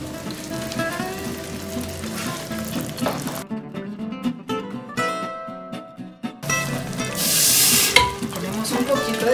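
A spoon scrapes and stirs through sizzling turkey with pineapple in a pan, close up, with steady frying hiss throughout and brief quieter gaps.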